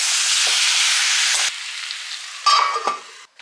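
Marinated chicken drops into hot masala in a pan and sizzles loudly, a strong frying hiss that settles into quieter bubbling, followed by a clatter of stirring near the end.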